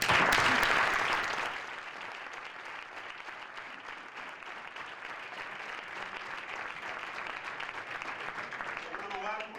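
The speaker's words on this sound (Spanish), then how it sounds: "Así que un aplauso para ellos." Applause from the audience at a Spanish Socialist political speech, loud and dense at first, then quickly tapering into a softer, sustained ripple of clapping and crowd noise.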